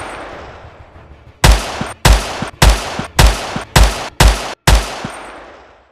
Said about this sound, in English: A high-caliber gunshot was fired into the air, followed by several more.